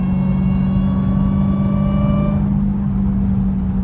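Supercharged Dodge Hellcat driven with its hood removed, a loud, close engine rumble topped by a rising supercharger whine that cuts off partway as the engine note drops.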